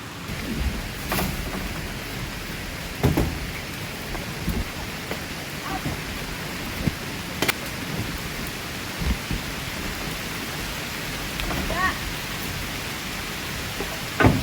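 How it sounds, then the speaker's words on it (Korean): Steady heavy rain pours on a campsite tent throughout, with sharp cracks and low rumbles of thunder breaking through at intervals. "오빠 비 많이 온다. 어, 비 온다. 천둥 쳤어."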